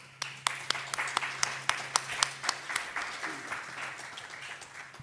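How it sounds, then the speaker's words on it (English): Audience applause at a Sunday church service, heard as sparse, sharp claps that build into a scattered, irregular patter and then trail off over a low steady hum. "And now we can begin to applaud."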